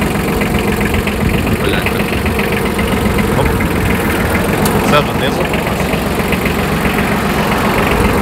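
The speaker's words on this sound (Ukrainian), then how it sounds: "Тепер ще раз показую вам, заводимо двигун." Yanmar F155 mini tractor diesel engine running at a steady, loud idle close by, a continuous rough mechanical drone with a slight knock, while someone talks over it.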